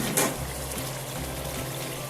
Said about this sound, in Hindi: अब इनमें हम पानी डालेंगे।